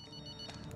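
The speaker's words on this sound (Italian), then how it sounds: "Facciamo suonare il telefono." In Call of Duty Modern Warfare, a video game, a telephone rings during the Hometown mission, a brief steady electronic ring close by.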